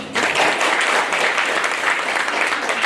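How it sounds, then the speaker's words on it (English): Loud, sustained applause from a conference audience in Kenya, steady clapping filling the space with no voices on top. "Another round of applause for him."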